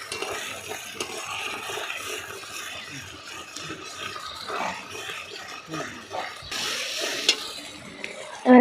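Ginger-garlic paste fries with tomatoes in a pan, a soft sizzle under scraping and stirring strokes, moderately quiet and continuous, with a louder clatter at the very end.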